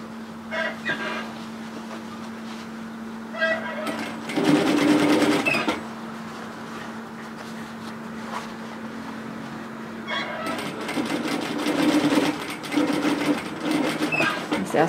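A domestic sewing machine stitches a curved seam on a pleated peplum twist top, its steady mechanical whir running in bursts and pauses, loud and close, with a sustained motor hum beneath.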